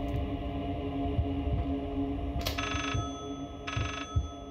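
A telephone rings in the horror video game Layers of Fear, two bright electronic ring bursts about a second apart, heard over a low droning ambient background with no talking.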